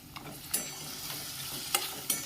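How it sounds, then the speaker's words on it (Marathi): A spoon scrapes and stirs through tomatoes with onions and green chillies sizzling in a pan, with steady frying crackle and a few sharper knocks against the metal. "तर टमॅटोला पण चांगलं मिक्स करून घ्यायचं आहे"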